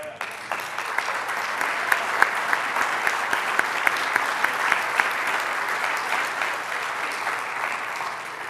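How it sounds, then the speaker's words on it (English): An audience at a civic State of the City address claps steadily for about eight seconds, a dense even patter with a few louder individual claps standing out. "I'd ask you all to stand now for some applause"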